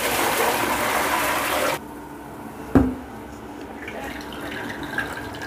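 Water from a bucket gushes loudly into a blocked sink drain for under two seconds, then cuts off, leaving a faint trickle, one sharp knock and quiet gurgling.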